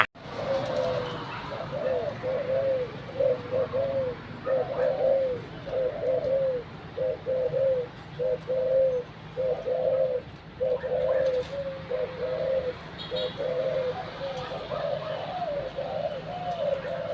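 A bird gives a repeated, rhythmic cooing call, phrase after phrase, over a steady outdoor background hiss, fairly close and clear.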